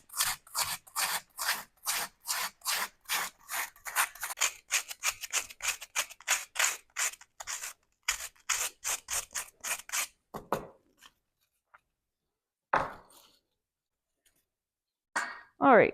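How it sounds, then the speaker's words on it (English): Sanding a bobcat taxidermy jaw form, a close run of rapid, rhythmic abrasive strokes that stops partway, followed by near silence with a few isolated rubs and handling sounds. "We'll have to do a little bit more sanding on the bottom jaw here because we don't need a whole lot."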